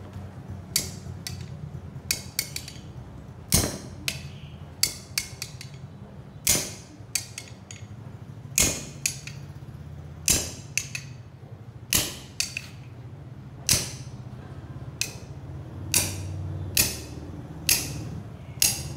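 Sharp metallic strikes from a 2 kg hammer working on a hydraulic pump part, irregular blows spaced about a second apart, near and loud over a low steady hum, with no talk.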